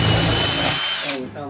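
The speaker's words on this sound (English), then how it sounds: "I'm just gonna drill right through." Power drill boring through an interior wall while installing a Rinnai propane heater, a loud steady whine that runs for about a second before dropping off, with a faint pause and restart near the end.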